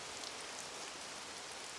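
Steady rain pours down in a cartoon scene after a rain dance, a soft even patter with no breaks, heard faintly and alone.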